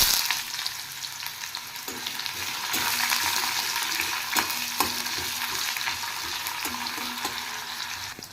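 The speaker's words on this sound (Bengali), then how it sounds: "এবার দিয়ে দেব কুচিয়ে রাখা পেঁয়াজ" Chopped onions drop into hot oil with cumin seeds in a pan and sizzle loudly and steadily, with occasional clinks and scrapes of a utensil against the pan.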